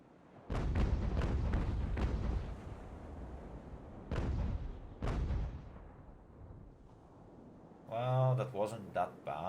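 Cannon fire from sailing warships in Ultimate Admiral: Age of Sail: a rapid cluster of heavy booms, then two more spaced blasts, with a voice briefly at the end.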